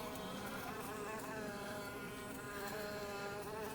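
Honey bees buzzing around a beehive, a steady, layered drone of many wings humming close by, continuous and even with no speech.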